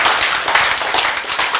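Brisk clapping from a church congregation during a Korean sermon, dense and close, a steady patter of many hands with no voices over it.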